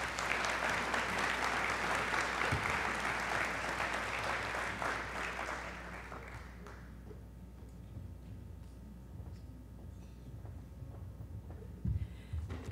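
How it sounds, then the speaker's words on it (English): A large audience at a downtown advocacy talk claps loudly for about six seconds, then the applause thins out into scattered room noise and small movements. "let's give him a big round of applause"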